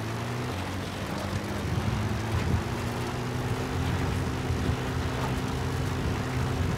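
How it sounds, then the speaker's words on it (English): A support helicopter arrives in the video game Metal Gear Solid 5, a steady droning engine with a low rotor hum holding constant throughout at moderate volume, with no talk. "Support helicopter requested."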